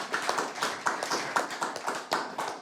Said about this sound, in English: send you some power with some applause